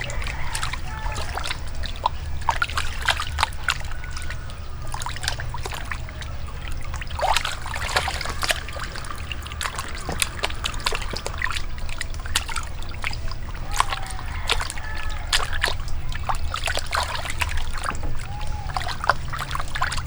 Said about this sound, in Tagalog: Hugasan nyo ng mabuti yung karne mga studio.